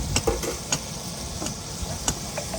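Tomato and onion sauté in a pan, giving a soft, steady sizzle broken by several sharp scraping stir strokes from a utensil, close and moderately loud, with no talk.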